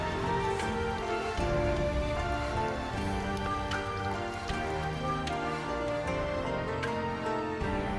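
Heavy rain falls steadily in Kumamoto, Japan, a dense, even hiss of drops drumming on surfaces that lasts throughout with no voices.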